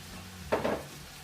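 Peas and carrots drop into a frying pan and are stirred, a short clatter and shuffle of vegetables against the pan over a faint background sizzle, close and without talk.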